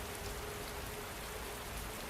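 Steady rain falls in a relaxing ambient backdrop, a soft, even hiss of drops on surfaces that holds without pause and with no voices.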